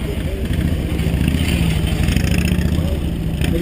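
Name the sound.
police motorcycle dragging through a tight turn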